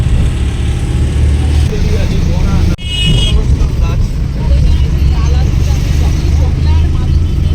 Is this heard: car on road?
yes